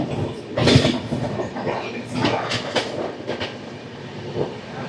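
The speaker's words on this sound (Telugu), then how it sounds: "మనకు ఆపోజిట్లో 11901 వస్తుంది. ఝాన్సీ నుంచి ఆగ్రా కంటోన్మెంట్ వరకు వెళ్ళే ఎక్స్ప్రెస్." An express train running from Jhansi to Agra Cantonment in Rajasthan passes on the opposite track, a loud rushing roar with clattering wheel noise and bursts of wind as the cars go by.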